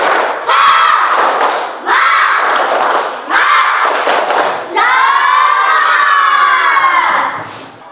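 Schoolchildren in a classroom perform a rhythmic spirit clap, loud group bursts of clapping and shouted chanting in repeated phrases, ending in a long sustained cheer, close and energetic.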